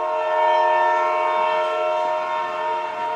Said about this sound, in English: And down at the train depot, where Shorty Hawkins is getting ready to board the 5:45 train for Boston.